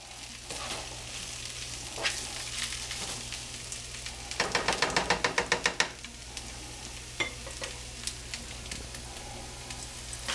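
Green onions sizzle in fried rice being cooked over fire. The steady frying hiss carries scattered scrapes of stirring and a quick burst of rhythmic clatter from tossing in the pan.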